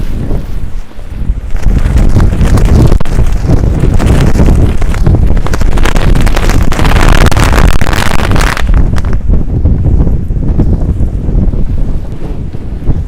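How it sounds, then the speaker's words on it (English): Strong wind sweeps along a rainy Manhattan street in New York City, loudly buffeting the microphone in a heavy, continuous roar that eases slightly toward the end. "Okay, the wind is picking up, friends."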